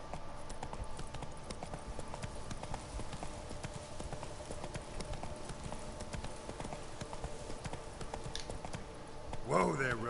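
Roach the horse clip-clops in The Witcher 3, a steady run of close hoof falls over soft ambient game sound. A short vocal sound comes in near the end.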